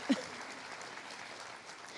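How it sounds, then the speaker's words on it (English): An audience at a survivor-voices event applauds Miss Kansas 2024, a soft, distant patter of clapping that stays low and steady after a brief louder thump at the start. "You can applaud for that."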